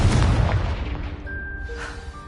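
Confringo fire spell detonating in a Hogwarts wizarding video game, a loud close blast with a deep rumbling boom that decays over a couple of seconds into fading debris and faint tonal game effects.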